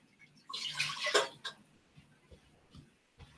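Water pours briefly into a container as brewing ingredients are measured, a splashing gush for about a second followed by a few faint drips and small knocks in a quiet room.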